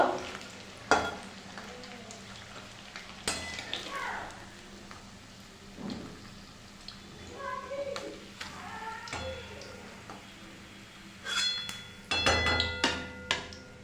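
Oil sizzles and crackles steadily in a pan with eggs frying, broken by a few sharp clinks and scraping stirs.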